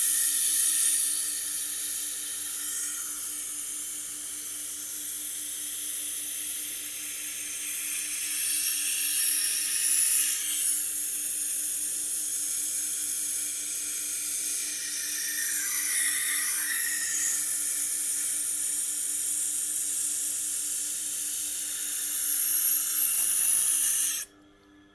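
Knife sharpening on a Tormek T8 wet grinder with a 320 grit stone gives a steady, close hissing rasp that runs almost unbroken for about 24 seconds before cutting off abruptly.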